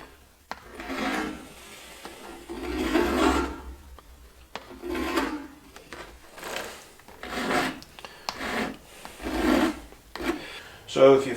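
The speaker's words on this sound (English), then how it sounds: "So that's filing your drags." Hand file rasping across the depth gauges of a Husqvarna chainsaw chain, a series of about nine close, steady scraping strokes with short pauses between them.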